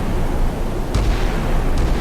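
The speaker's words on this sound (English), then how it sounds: "Defensive gunfire" Warships fire defensive guns in the Sea Power naval combat game: two sharp, loud reports stand out against a constant low rumble of battle noise, the first in the middle of the clip and the second near its end.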